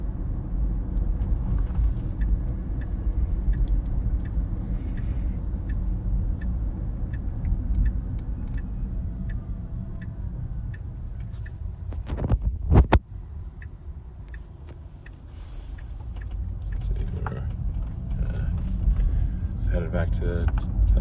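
Tesla Model S Plaid cabin on Full Self-Driving in Palo Alto: a steady low road rumble and hum runs throughout, with a sharp brief bump near the middle, while people talk quietly.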